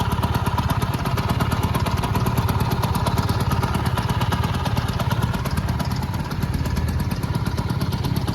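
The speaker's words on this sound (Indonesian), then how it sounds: "Nah ini suara mesinnya." A 1978 Vespa Spesial PTS 90 small-frame scooter with a 90 cc engine idles close by, giving a steady, even two-stroke putter throughout with no talk.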